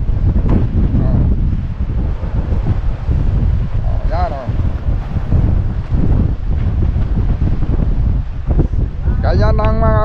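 Strong wind roars across the microphone on a small fishing boat at sea in big waves, a loud, constant blustery rush with occasional thumps and faint tonal whines.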